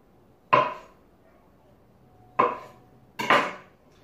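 A knife dices beetroot into small cubes on a cutting board, three sharp, isolated chops with pauses between them, close and clear against a quiet background.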